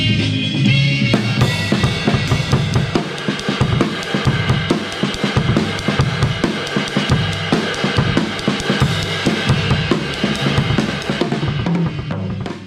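Full drum kit playing a breakbeat over backing music, a dense, busy groove of snare and cymbal hits running steadily and loudly from start to finish.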